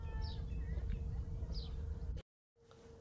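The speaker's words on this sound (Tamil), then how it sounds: "பின்னாடி அப்படியே மைல்டாக குருவி கத்துற சத்தம் கேட்கும்." Soft chirps from small birds in a tree-filled park in Abu Dhabi, a few brief high calls over low background rumble, broken by a short moment of silence.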